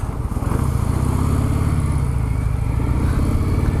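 Harley-Davidson Breakout motorcycle at cruising speed, its engine a steady, loud low rumble with wind noise throughout, no voices.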